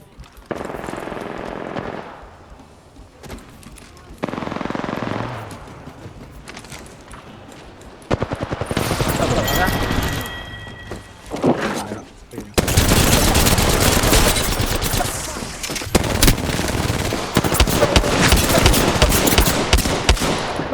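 Rapid automatic gunfire and shot bursts from the video game Apex Legends, loud and sustained in dense volleys, with quieter gaps early on, then near-continuous firing through the second half.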